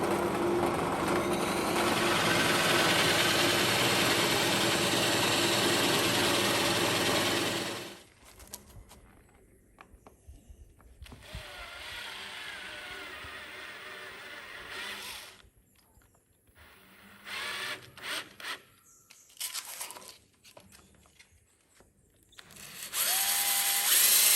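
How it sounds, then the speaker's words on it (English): A hole saw on a drill bores through solid hardwood to cut a cajon's handle and small feet, a loud steady whir that gives way to intermittent bursts and stops. "I'm going to be using the hole saw to make the handle and the 4 little feet for this drum."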